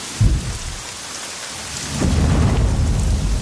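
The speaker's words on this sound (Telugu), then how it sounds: "ఎక్కడ తెచ్చాడు వీడు ఈ వర్షం ఒకటి?" Rain pours in a movie scene while thunder rumbles, with a low boom near the start and a heavier roll building from midway, all over a constant wash of falling rain and no talk.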